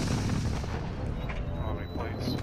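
Semtex or thermite grenade blast in Call of Duty Warzone II, a loud, dense rumbling explosion that fills the whole moment up close amid constant heavy game noise.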